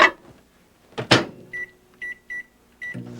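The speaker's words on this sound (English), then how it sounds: "And that's going to go in the microwave 6 minutes." A microwave oven being set for a six-minute run: a couple of thumps as the door shuts, then four short, clear keypad beeps spaced apart, followed by the low steady hum of the oven starting.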